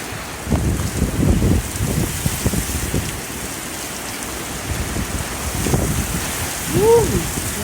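Rain and strong gusting wind roar through a severe thunderstorm in upstate South Carolina, a steady wash of noise with heavier buffeting bursts and occasional faint voices in the background.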